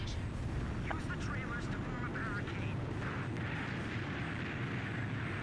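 Rockets fire and explode in the Ace Combat 5 flight combat game, heard as a dense, rumbling barrage of booms under a steady engine drone, fairly quiet overall, with a person talking over it.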